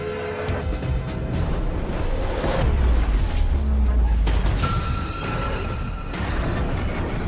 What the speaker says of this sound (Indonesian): Akibatnya ledakan besar pun terjadi, dan paket kiriman yang mereka bawa pun menjadi terpental.